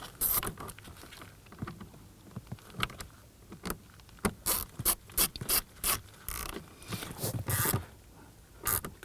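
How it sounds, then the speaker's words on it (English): Screws being snugged down by hand into a plastic dash panel cover on a 2003-2014 Volvo XC90, giving a close run of short clicking, ratcheting and rubbing bursts at an irregular rhythm. "Go ahead and snug down your screws."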